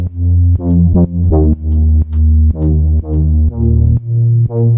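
Deep house sub bass layered with a top bass line, with no group processing, playing a loud, pulsing sequence of repeated bass notes with sharp, regular re-attacks, heard alone.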